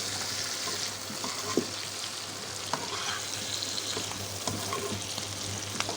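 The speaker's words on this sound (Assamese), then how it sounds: "এতিয়া মই ইয়াত পনীৰখিনি এড কৰি দিছোঁ।" Paneer cubes sizzle and fry steadily in a hot pan for chilli paneer, a continuous close crackle with a few soft scraping stirs and no talking.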